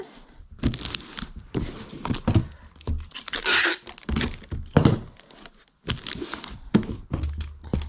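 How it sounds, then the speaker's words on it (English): Tape being pulled and pressed onto a reused cardboard shipping box, close and fairly quiet, with bursts of ripping tape, crinkling and dull thumps against the cardboard in irregular clusters and no talking. "And I will get it all taped up again."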